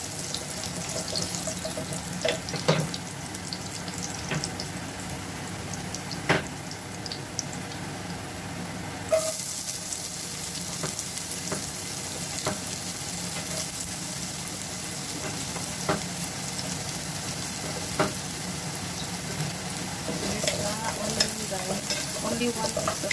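Garlic frying in a pan for arroz caldo, a steady close sizzle with scraping stirs and occasional clinks, running continuously without talk.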